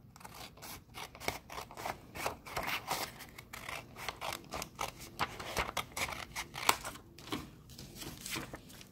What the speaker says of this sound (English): cut my paper in half